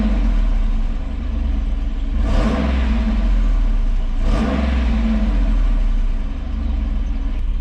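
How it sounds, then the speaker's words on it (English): A Jeep Wrangler 392 V8 with an AWE Tuning exhaust, valves closed, revs twice to 2500 rpm in a steady, loud rumble of about 80 decibels, each rev rising into a throaty burst before settling back to a deep idle. "revving to 2500 with the exhaust closed, which sounds terrible, is 80 decibels"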